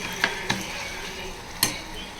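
Three green chillies and chopped vegetables sauté in a pan while cooking a vegetable kurma, with a few sharp clinks of a spoon against the pan over a steady soft sizzle.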